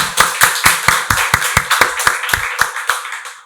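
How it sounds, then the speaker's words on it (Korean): A church congregation at a Sunday worship service claps together in unison, a steady rhythmic beat of about a dozen sharp, close hand claps that fades out at the end, with no voices over it. "박수로 하나님께 영광 돌리겠습니다."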